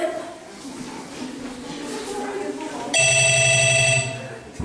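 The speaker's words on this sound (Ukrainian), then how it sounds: "Вона дзвонить. Бери трубку." A telephone rings loudly and steadily as a bright electronic tone near the end, after a stretch of people talking in a room.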